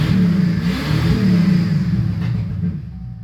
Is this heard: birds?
no